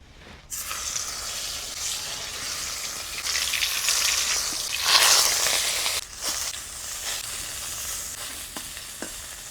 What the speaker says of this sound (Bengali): প্রথমে পাতুরিগুলোকে ভেজে নিব